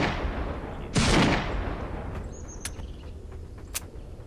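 A loud burst of gunfire in the video game Murder Miners, set in a cave, rings out and decays, followed by a few faint sharp shots in the distance.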